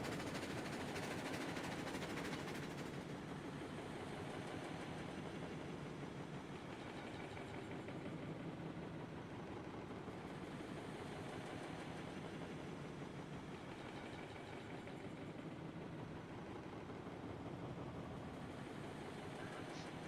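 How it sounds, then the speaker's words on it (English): A heavy video game freight train loaded with about 158 tons of water rumbles steadily along with a continuous low mechanical drone and dense rattling, loud and unbroken throughout, in Railroads Online. "this fully loaded train filled with water"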